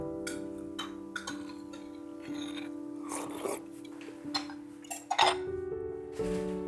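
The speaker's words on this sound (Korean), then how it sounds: "설거지가 제일 귀찮아요." Dishes being washed at home: plates and cutlery clink and knock in scattered bursts over running water and a steady hum.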